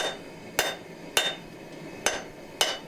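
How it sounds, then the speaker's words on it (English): A hammer forging a wrought iron san mai knife billet, with four sharp, ringing metallic strikes in an uneven rhythm, close and clear with no voices. "I'll just test the weld, forging, hitting it down just to make sure it's not going to open up."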